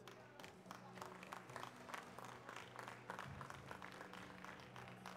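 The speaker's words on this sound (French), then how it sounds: "Allez, on les applaudit bien fort." Applause rises from the crowd as the teams are introduced at an elite water polo match between Cercle 93 and Sète Natation, a steady patter of many hands sounding moderately distant and fairly soft.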